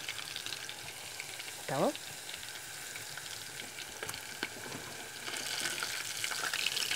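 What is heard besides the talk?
river fish (cará) frying in a pan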